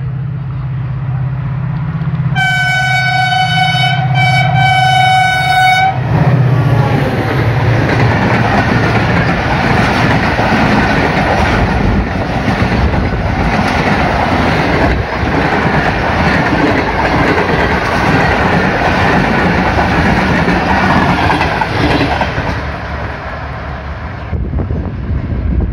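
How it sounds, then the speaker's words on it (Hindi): The 16 Down Karachi Express, hauled by locomotive 8221, approaches Kot Lakhpat station, opening with a loud multi-tone horn blast before a long, steady roar and clatter of wheels and cars rolling close by. "16 डाउन कराची एक्सप्रेस अप्रोच कर रही है 8221 के साथ।"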